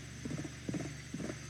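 Horse galloping in the video game Westbound, a quiet rhythmic clip-clop of hooves in uneven bursts over a low steady hum.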